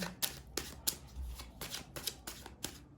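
Tarot cards shuffle in a steady series of crisp riffling bursts, about seven quick ripples close to the mic and fairly quiet, with no talking.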